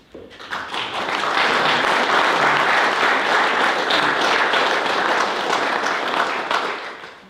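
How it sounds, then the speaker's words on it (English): At a ribbon cutting ceremony, a crowd breaks into sustained, dense applause that swells quickly and holds steady for several seconds before tapering slightly at the end. "a round of applause for their important work"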